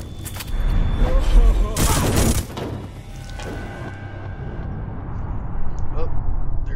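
Heavy gunfire bursts in the Hitman Absolution video game, loud and dense for about two seconds, then fading into quieter in-game ambience with a lingering hum and occasional faint clatter.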